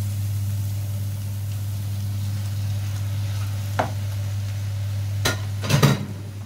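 Minced meat being stirred into onions in a pan, with a low steady hum under a few sharp scrapes and clinks of a utensil against the pan near the end.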